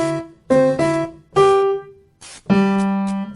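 A melody played on a bright, tonal instrument over a backing track, with short clipped notes and a held final note, loud and close with no talking.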